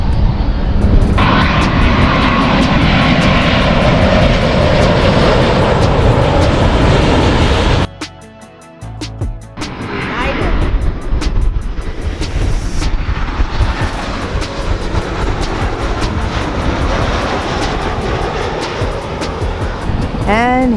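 Airplane coming in to land along the flight path at LAX, a loud, continuous jet roar close overhead that dips briefly and then swells again, with people talking underneath.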